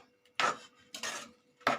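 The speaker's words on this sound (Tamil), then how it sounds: "சேர்த்துட்டு அதையும் நல்லா மிக்ஸ் பண்ணிடலாம்." Mushrooms being stirred into masala in a pan, with three separate scraping, clattering strokes of a utensil against the pan, close and fairly quiet, with no talking.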